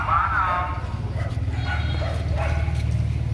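Rottweiler puppies about two months old yip and whimper close by, high squeaky cries overlapping in a busy cluster against a low background rumble.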